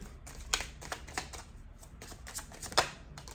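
Tarot cards handled on a table: soft papery rustles and slides with two sharper card snaps, close and fairly quiet, with no talking.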